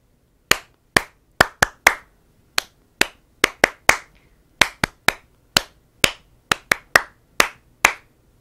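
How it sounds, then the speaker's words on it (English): About twenty crisp hand claps in an irregular rhythmic pattern, the kind a teacher uses to get classroom attention, loud and close in a quiet room with short pauses between groups, no voices. "You clap rhythms and students repeat the rhythms"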